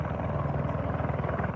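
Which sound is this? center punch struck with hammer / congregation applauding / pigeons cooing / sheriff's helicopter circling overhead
sheriff's helicopter circling overhead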